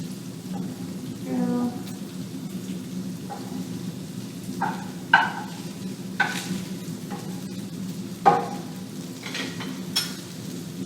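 Grease from a pan of browned Italian sausage drains off with a steady sizzling hiss, punctuated by scattered clinks and scrapes of the pan and utensil.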